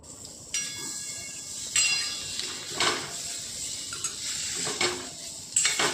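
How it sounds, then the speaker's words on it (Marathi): A utensil clatters and scrapes through chopped potato and onion in a metal pan, several irregular metallic knocks over a steady background hiss, close by and without speech. "याच्यामध्ये बटाटा टाकून घेऊ कापून घेतलेला आणि याला व्यवस्थित मिक्स करून घेऊ"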